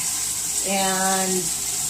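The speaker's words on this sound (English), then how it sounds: "Add some more water to the top of the stove." Water pours steadily into a bucket while oyster and wine cap mushroom spawn is being prepared, a rushing gush with a brief tonal ring midway, close and continuous.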